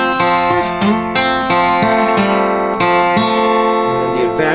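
An acoustic guitar plays the fourth bar. Bright, ringing plucked notes sound over open strings in a steady rhythmic pattern with a few accented strums. The playing is close and clear, with no voice.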